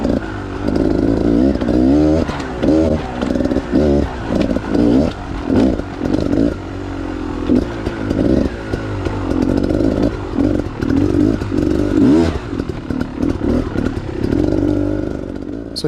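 A Beta enduro motorcycle rides a wet trail, its engine loud and close with repeated throttle blips and revs rising and falling, and clattering bumps along the way.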